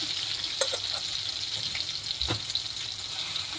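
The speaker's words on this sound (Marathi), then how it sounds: "आता जिरं टाकते मी" Cumin seeds crackle and sizzle in hot oil in a home kitchen pan, a steady close frying hiss with a few sharp pops, no voices.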